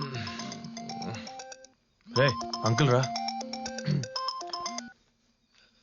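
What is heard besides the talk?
mobile phone ringtone ringing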